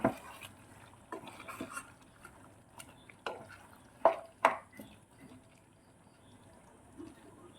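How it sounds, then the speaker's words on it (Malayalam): Cubed capsicum and tomato are stirred into kadai chicken in a pan, giving faint, soft scrapes and a few sharper utensil knocks against metal, sparse and close, with no speech. "ക്യാപ്സിക്കം ക്യൂബായിട്ട് അരിഞ്ഞു വെച്ചിരിക്കുന്നത് ടൊമാറ്റോ എന്നിട്ട് മിക്സ് ചെയ്ത് കൊടുക്കുക"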